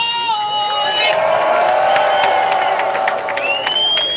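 Crowd at a Juneteenth reparations rally cheering, whooping and shouting loudly, with high sustained yells and sharp claps cutting through the continuous roar.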